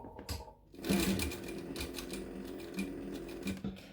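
A sewing machine stitches a folded, finished-edge strap on a center-seam face mask. After a brief pause it starts up into a short, close run of rapid stitching that lasts a few seconds, with no talking.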